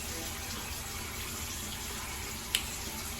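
Warm water pouring steadily from a tap for face washing, a constant close gushing hiss with a brief clink near the end.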